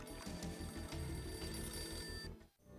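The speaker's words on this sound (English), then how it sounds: "A beaten up phone in the entrance hall was ringing" An old, beaten-up telephone rings in an entrance hall in Max Payne, a steady, loud rattling bell pulsing in rapid bursts with a faint electronic tone above it, then cutting off abruptly near the end.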